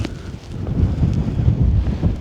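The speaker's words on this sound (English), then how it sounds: "It's windy." Gusty wind buffeting the microphone, a low rumbling roar that swells and dips over a couple of seconds.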